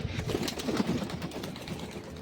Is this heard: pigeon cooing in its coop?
yes